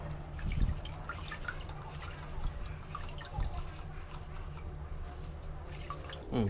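Duck eggs are washed by hand in water, with faint close sloshing, rubbing and dripping continuing steadily over a low background hum and no clear speech.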